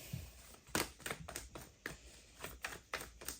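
Tarot cards being shuffled by hand, a quick run of crisp riffling clicks and flicks in irregular bursts, close and fairly quiet, with no talking.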